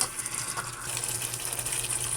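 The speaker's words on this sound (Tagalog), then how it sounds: "lagyan natin ng tubig" Water pours into a cooking pot while pork caldereta is being made, a continuous splashing gush lasting about two seconds, close and fairly loud.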